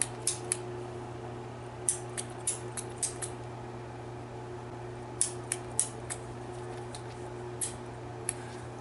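Piezo igniter on a Bernzomatic automatic torch clicks repeatedly in short, sharp, close snaps, some in quick pairs and clusters, over a quiet steady hum with no talking.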